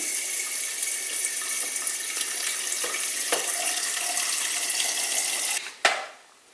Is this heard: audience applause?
no